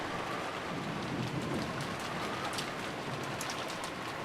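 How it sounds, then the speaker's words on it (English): Steady heavy rain with a low rumble of thunder, a storm sound effect in the Umineko When They Cry visual novel, a continuous even wash throughout with no voices. "That's some loud thunder."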